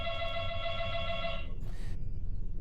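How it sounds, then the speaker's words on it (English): Doorbell ringing indoors, a steady electronic chime tone that holds for about a second and a half, then cuts off, followed by a brief hiss and low background hum. "my door is ringing"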